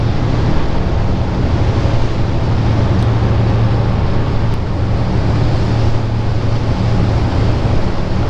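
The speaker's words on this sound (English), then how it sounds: "It's another ferry just like the one we're on. A fast ferry." Aboard a fast ferry crossing the South China Sea toward Vung Tau, a loud continuous roar of rushing water, wind buffeting and engine drone with no pauses, constant and close throughout.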